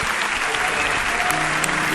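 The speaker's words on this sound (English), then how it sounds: "a round of applause for the Kopa Trophy winner, Jude Bellingham." Dense, steady applause from a large crowd greeting the Kopa Trophy winner at an awards ceremony, continuous clapping without a break.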